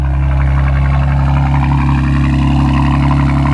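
A BMW G82 M4 with a loud aftermarket exhaust idles right after a cold start, a deep steady drone with a rapid low pulsing, heard up close and alone.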